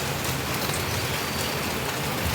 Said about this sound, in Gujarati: ધીમો ધીમો જ આવતો હતો